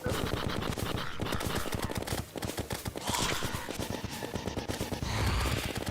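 Rapid machine-gun fire from the shark gun in Terraria, a dense, steady stream of shots that carries on almost unbroken for several seconds, loud and close.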